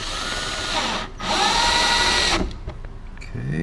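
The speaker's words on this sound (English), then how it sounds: "So let me get the drill." A power drill drives screws into a TV wall mount, running in two loud whirring bursts with a short pause between them, then fading to lighter handling noise at the end.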